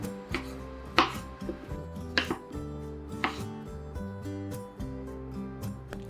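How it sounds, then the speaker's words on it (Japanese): Knife chopping cucumber and cutting cherry tomatoes into quarters on a cutting board, steady close knocks in a regular rhythm with a few louder strikes, over light background music. "ミニトマトは4分の1サイズにカット。"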